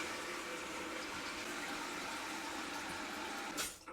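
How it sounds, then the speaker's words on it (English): Water rushes steadily as the supply line is turned on and a toilet tank begins filling during a Korky universal toilet repair, a loud continuous hiss that fades briefly near the end. "I am going to turn the water on."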